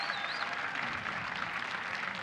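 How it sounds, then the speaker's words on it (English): Steady applause from a large crowd at an esports grand final, a dense wash of clapping heard at a distance and holding level throughout. "please, round of applause for your champions"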